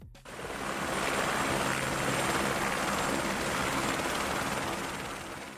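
A helicopter flies nearby, its steady, loud rotor and engine roar holding continuously throughout without pause; no voices are heard.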